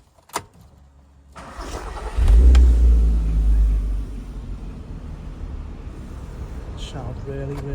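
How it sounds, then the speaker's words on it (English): A 2007 Audi TT with a 3.2 V6 starts after a door click: the starter catches, the engine flares loudly, settles into a rumbling idle, and is later blipped again, close by and strong. "just going to open the driver's door and start the engine, so hopefully you can hear it"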